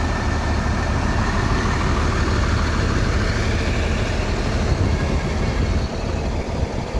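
A Hino RM bus engine idling, a steady, loud, low diesel rumble that stays close and unbroken.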